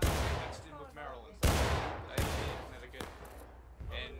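Several musket shots in the Civil War video game War of Rights ring out at irregular intervals, a loud nearby crack followed by more distant reports echoing across the field, with voices murmuring underneath.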